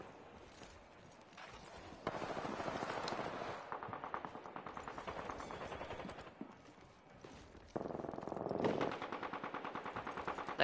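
Rapid automatic gunfire in the Apex Legends video game rattles in long, dense bursts, fairly loud and continuous with brief lulls between volleys.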